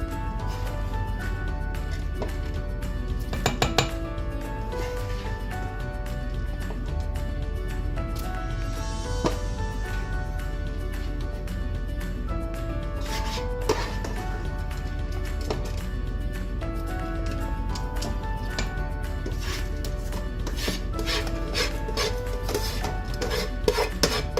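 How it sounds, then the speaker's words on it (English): A spoon or spatula scrapes the last grains of rice from a bowl into a pot while making beef biryani with coconut milk, giving repeated close scraping and light clinks against a steady kitchen hum. "Just trying to scrape every last grain."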